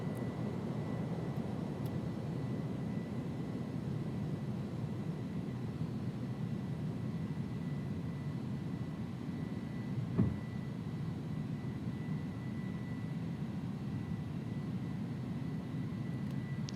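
Steady low engine roar of an iniBuilds A310 climbing after takeoff in a flight simulator game, a constant drone with a faint tonal hum and one brief click, no voices.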